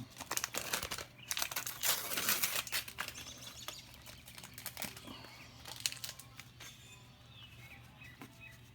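Baseball trading card packs are torn open and handled, close crinkling foil wrappers and quick tearing bursts, then softer rustles and shuffling as cards are sorted in a quiet room.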